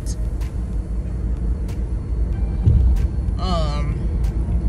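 Car interior on a drive to a doctor's office, with a steady low road rumble and engine drone throughout, a few faint clicks and a brief higher chirp near the end, no talk over it.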